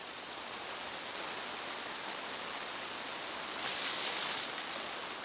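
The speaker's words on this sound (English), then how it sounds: "it's horrible downpour" A heavy downpour at an outdoor shooting area roars as a constant broadband wash, swelling slightly louder near the end, with no one speaking.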